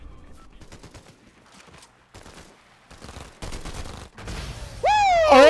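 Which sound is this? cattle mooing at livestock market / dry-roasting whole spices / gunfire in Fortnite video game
gunfire in Fortnite video game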